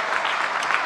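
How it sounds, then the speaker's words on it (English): Audience applause at a tech-industry diversity panel during a startup festival, a steady wash of clapping filling the whole moment, fairly loud and even with no talk over it. "big round of applause"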